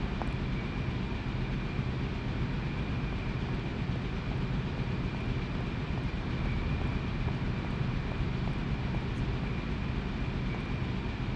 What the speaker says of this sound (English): I can hear machines whirring.